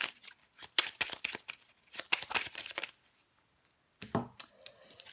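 Tarot cards are shuffled in quick bursts of riffling and slapping, followed by a pause and then single cards being drawn and laid down, close and clear with no talking.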